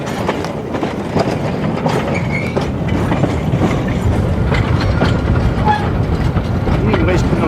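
A scheduled train on the Cumbres and Toltec narrow-gauge railroad rumbles past close by, a steady heavy roar with rhythmic clicking of wheels over rail joints and occasional metallic squeals.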